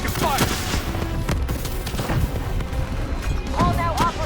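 Gunfire fills a firefight in Call of Duty Black Ops 3 as squadmates shoot at the enemy Hall and her Manticore, with dense, continuous bursts and booms and occasional radio-style voices talking over the shots.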